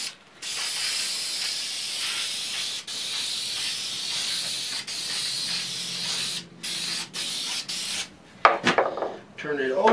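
Aerosol can spraying wood finish onto a freehand-carved wooden sign, a loud continuous hiss in long bursts with brief breaks, ending in scraping and handling sounds.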